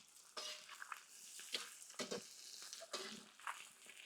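Carrots, green chillies, onions and cabbage hit a pan of frying chicken, sizzling and rustling in bursts as the vegetables are stirred, close and moderately loud.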